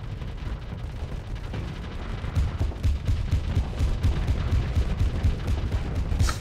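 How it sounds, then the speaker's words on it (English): Spaceship weapons fire nonstop in a video game space battle against frigates, a dense rumbling barrage of overlapping booms and rapid shots that grows slightly louder toward the end, with no one talking over it. "where we just have shots flying everywhere"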